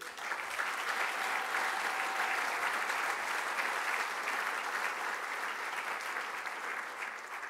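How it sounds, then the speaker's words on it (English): Audience applause fills the hall at the Pride of Sport 2018 awards ceremony, a steady, dense clapping that holds at full strength for about seven seconds with no talk over it. "Give them a big round of applause."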